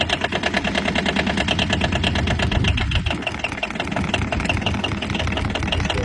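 A small diesel engine cranks and fires in cold weather with the glow plugs off, then settles into a loud, close, rhythmic idle with a steady knocking chug and no talking.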